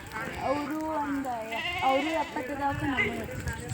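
Sheep and goats from a flock of about seventy bleat repeatedly and fairly close, their wavering calls overlapping with people talking throughout.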